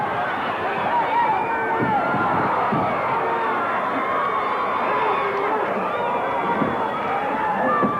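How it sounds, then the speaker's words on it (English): A crowd at a steel cage wrestling match between Randy Savage and Ron Garvin roars and cheers continuously, a dense, loud wall of voices with occasional louder swells. "This crowd is going wild."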